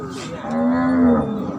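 A cow at a livestock market in Warin Chamrap, Ubon Ratchathani, lets out one long, loud, close moo with no talk over it.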